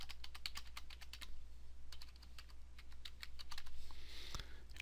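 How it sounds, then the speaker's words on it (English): Password being typed on a computer keyboard: quiet, close clicks of keys in quick irregular bursts with short pauses between them, over a low steady hum. "And then I'll just type in my password here."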